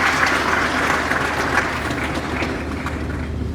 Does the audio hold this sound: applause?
yes